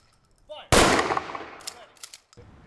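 A 21-gun salute volley fired by the Sterling Heights Police and Fire Honor Guard at an outdoor Veterans Day ceremony, one sharp loud rifle blast ringing and echoing away, with faint crowd sounds after.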